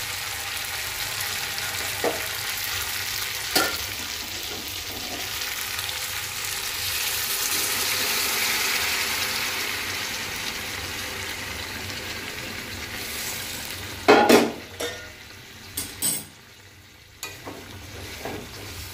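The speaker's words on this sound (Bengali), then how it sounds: "আলুটা দিয়ে দিই। জল গরম হয়ে গেছে, এখন জল ঢেলে দেবো।" Potatoes cooking in a pan as hot water is poured in, a sustained sizzling hiss that swells and fades, followed near the end by a few sharp clattering stirs or knocks.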